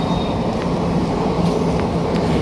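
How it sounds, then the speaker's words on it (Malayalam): A train running north to south on a railway track near Vellayani in Trivandrum, a loud continuous rumble and rattle of wheels close by throughout, with no talk. "ഈ ട്രെയിൻ നോർത്തിൽ നിന്ന് സൗത്തിലേക്ക് യാത്ര ചെയ്യുകയാണ്"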